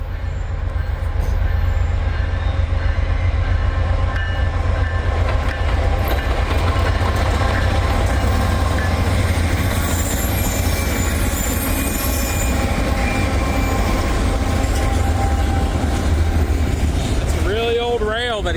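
A freight train rolls onto a siding close by, a continuous loud rumble of wagons with rhythmic wheel clacking, metallic squeals rising near the end, and someone talking over it.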